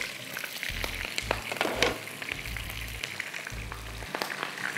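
Meat frying in a pan for ruz bukhari, an ongoing close crackling sizzle with irregular spatters and a low rumbling hum underneath.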